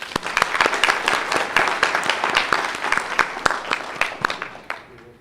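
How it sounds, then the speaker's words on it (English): Audience at a county spelling bee for seventh and eighth graders applauding the top ten contestants, a steady patter of many hands with sharp individual claps standing out, fading away at the end. "If you could give them a round of applause."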